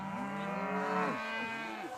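Cattle on a grazing lease along the Peace River giving a long, close, drawn-out moo with a falling pitch, followed by a second shorter lowing call.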